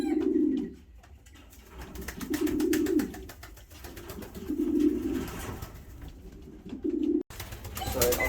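A pigeon cock coos repeatedly at an aviary wire to impress hens, four low, throaty coo phrases at a steady pace, fairly close against faint background noise.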